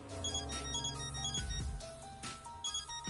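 A mobile phone ringtone in the Death end re;Quest video game chimes in a repeating electronic melody, bright and steady, with a brief low thump partway through and no talking over it.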